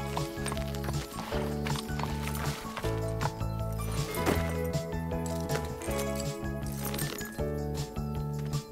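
Horses clip-clopping with hooves and harness jingling, a continuous busy mix over a steady musical background, with a possible whinny.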